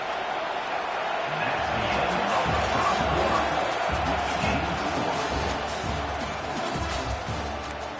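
A packed stadium crowd at a Clemson versus Alabama college football game roars continuously, a broad, sustained wash of cheering and noise lasting throughout.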